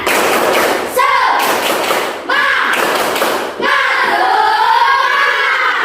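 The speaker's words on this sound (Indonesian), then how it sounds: "Tepuk semangat" Schoolchildren in a classroom perform a rhythmic spirit clap, loud bursts of clapping and thumps in repeated phrases separated by short gaps, with children's chanting voices over the beats.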